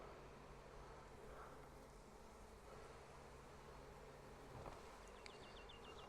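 Steady low insect buzzing fills the air, a dense hum of many honey bees close by around a hive, with a few faint higher chirps near the end.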